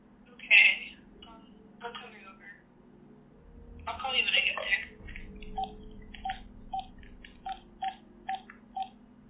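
Phone being dialed in the horror video game Mystifying Oracle: a string of short, evenly spaced electronic dialing beeps follows brief bursts of sound, heard clearly over a low steady hum.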